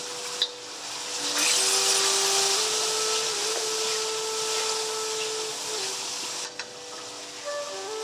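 Base gravy for chicken dhansak cooking down in a hot pan, giving a steady, close sizzling hiss with a faint mechanical hum underneath and a couple of brief clicks.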